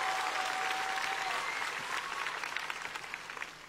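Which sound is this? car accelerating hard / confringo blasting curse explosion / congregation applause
congregation applause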